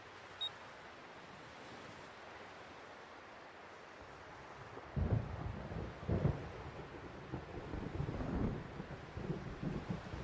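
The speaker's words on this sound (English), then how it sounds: "I just really hate thunder." Thunder rumbling over a beach in the video game Xenosaga Episode 1, a low rolling boom breaking in midway over a quiet windy backdrop, with a few heavier rumbles following.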